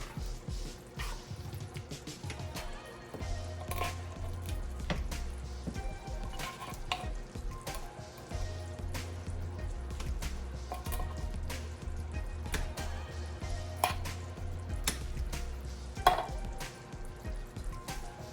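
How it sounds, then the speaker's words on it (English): Potato soup simmers in a pot with a steady, soft bubbling and sizzling, plus occasional small drips and stirring clinks, under faint low background music. "The soup has been cooking, simmering for 30 minutes."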